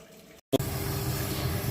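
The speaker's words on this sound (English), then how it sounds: "we've refilled this bottle with water. I'll just turn that off." Water from a tap runs steadily into a bottle being refilled, a quiet continuous pouring hiss after a brief pause and a gush as the flow starts.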